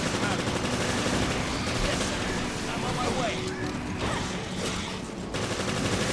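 A machine gun fires at swarming enemies in Resident Evil Revelations, a loud, dense, continuous clatter of shots and mechanical noise that barely lets up, with a voice talking over it.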